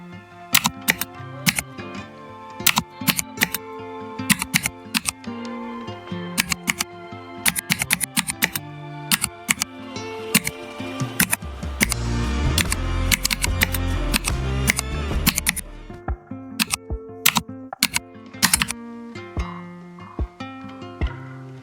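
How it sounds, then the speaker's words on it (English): Computer keyboard typing sound effects from software enabled in Notepad click in irregular bursts of crisp single keystrokes, close and distinct, with a denser cluster of rapid presses in the middle. "we have enabled the sound of typing keyboard"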